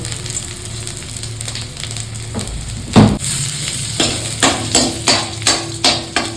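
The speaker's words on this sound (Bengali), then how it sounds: "দিয়ে দিচ্ছি একটু ঘি একটি রসুন কুচি শুকনো লঙ্কা অল্প একটু জিরে" Ghee sizzling in a pan as chopped garlic, dried chilli and cumin go in for a dhaba-style tempering, a steady fry with a louder hiss burst midway and then a run of rhythmic stirring scrapes.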